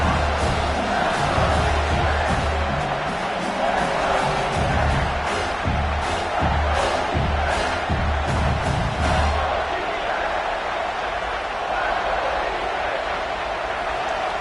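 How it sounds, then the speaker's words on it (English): A packed stadium crowd in a college football video game roars in a dense, loud, continuous wash. Bursts of cheering rise over it before the noise eases, and a commentator talks throughout. "This crowd knows they have to bring it in big moments"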